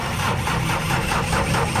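A car engine running steadily at a low rumble on a dark road near a narrow bridge, a continuous mid-level drone with no pause across the short stretch.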